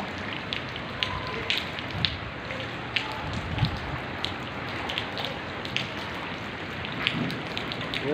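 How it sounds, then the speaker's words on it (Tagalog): Heavy rain pours down steadily in a dense, continuous hiss, with scattered louder drops and splashes standing out close by. "Malakas ang ulan dito."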